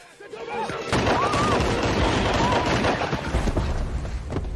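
A loud gunshot rings out in the action comedy film 21 Jump Street, one sharp crack followed by a sustained roar of noise and a whining tone, with a voice briefly audible underneath.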